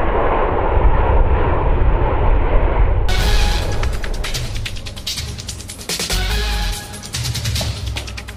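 Jet airliner landing at Calgary airport after a flight from Toronto: a steady low cabin engine roar, then a sudden louder burst of broadband rumble and rattling as the aircraft touches down and decelerates, with no talking.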